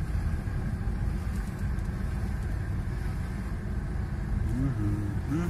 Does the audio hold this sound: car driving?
yes